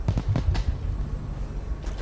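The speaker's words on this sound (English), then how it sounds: "that's not his footsteps, that's the fireworks" Fireworks in the stealth game Dishonored pop several times in quick succession, a muffled series of thumps and cracks heard from a distance. They are followed by a low rumble and one more pop near the end.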